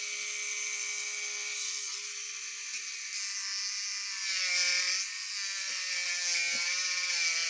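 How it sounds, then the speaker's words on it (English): A small rotary tool grinds down a metal tank valve, giving a continuous high-pitched whine with slight pitch wavers as it bites into the metal, close and steady with no talking. "So we're just going to grind it all down a little at a time."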